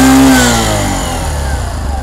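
A 2024 Bajaj Platina 110 ABS motorcycle engine revs loudly, then settles into a steady rumbling idle, heard up close.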